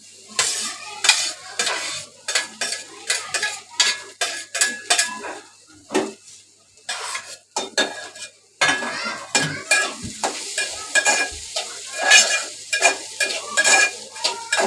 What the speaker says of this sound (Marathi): चांगलं व्यवस्थित ढवून घ्यायचं